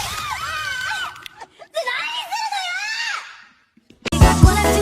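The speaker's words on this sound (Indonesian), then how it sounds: "Ketika dilakukan, dia pun berteriak hingga dia meloncat." A woman shrieks loudly while her hair is plucked on a Japanese game show, a rising wavering scream that breaks off, followed by more high-pitched yelling and a burst of noise near the end.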